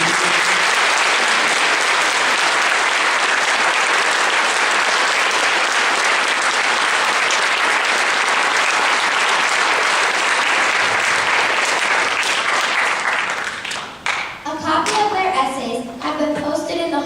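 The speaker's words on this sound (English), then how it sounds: "Could we have a round of applause?" An audience applauding at a middle school Memorial Day program, sustained loud clapping that thins out near the end as a few voices emerge.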